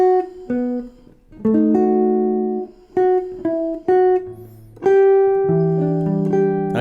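A melody played slowly on guitar, single plucked notes with slides ringing out one after another, clear and close with no talking.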